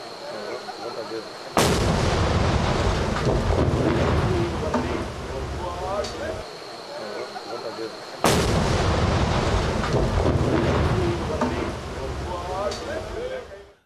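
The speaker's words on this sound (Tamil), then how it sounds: "ஆற்று நடுவே உடைந்து கிடந்த தடுப்பணை வெடி வைத்து தகர்க்கப்பட்டது" Two loud explosive blasts demolishing a broken check dam in a river, roughly seven seconds apart, each a sharp boom followed by a long rumbling roar of debris, with voices faintly audible in between.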